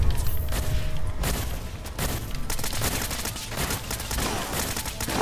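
Rapid gunfire in the video game Fallout 4's Nuka World, a dense, loud fusillade of sharp shots with bursts and brief gaps, continuous across the whole stretch.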